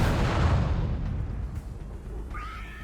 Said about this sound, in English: seconds later, a sudden explosion brutally ends the movie